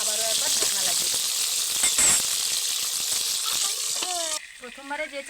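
Stuffed pointed gourds fry in a pan with a steady, close sizzle and occasional stirring clinks; near the end the frying quiets and a voice speaks briefly.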